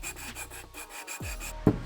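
An RM250 intake manifold gasket surface is hand-sanded flat on a plate, making a run of short rhythmic rasping strokes close up, with a sharper scrape near the end and no talking.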